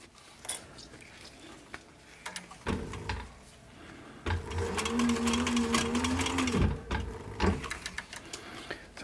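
A sewing machine stitches through layers of leather for a sun visor, running in short bursts between quiet pauses, then a longer steady run with a clear whirring hum, close and fairly quiet.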